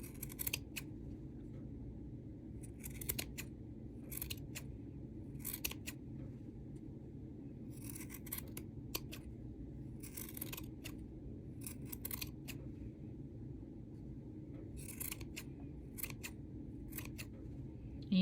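Scissors snip yarn while trimming a finger-made pom-pom, giving repeated short crisp cuts in small bursts, close and clear over a low steady background hum.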